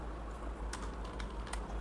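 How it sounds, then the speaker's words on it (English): Quiet, irregular keystrokes on a computer keyboard tap out a short burst of typing over a low background hum, with no talking. "I'm simply typing here,"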